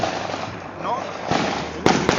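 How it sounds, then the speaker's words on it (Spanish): Fireworks and firecrackers going off during Christmas festivities in Brazil, with a sharp near crack near the end and a second pop just after, over a steady noisy background and murmuring voices. "no estoy acostumbrado a tantos fuegos artificiales y tantos petardos"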